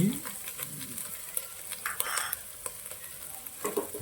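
Ginger and garlic paste frying in a pan for chicken biryani gives a soft, steady sizzle, with a spoon stirring and scraping through it at close range.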